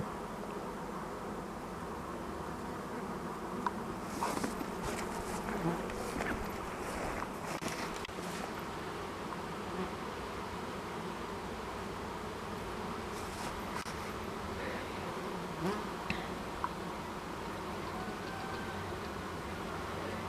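Honeybees buzz around a beehive entrance in a steady, dense drone that holds throughout, with a few louder passes of individual bees close to the microphone.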